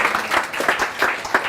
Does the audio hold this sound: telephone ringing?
no